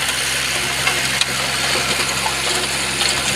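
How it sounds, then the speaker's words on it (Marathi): A driverless tractor pulls a rotavator across a farm field, its engine droning steadily and close by in a continuous mid-pitched rumble with a faint rhythmic knock and no voices. "बघा रोटरायचं चाललंय"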